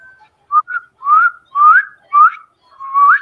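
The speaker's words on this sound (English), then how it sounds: "I was just whistling like," A person whistles into a forest in a series of short rising tones, about six separate phrases with brief pauses between them, clear and close, with no talking.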